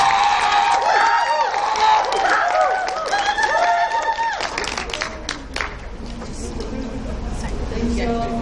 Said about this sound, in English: Let's give Danielle Plumage a round of applause.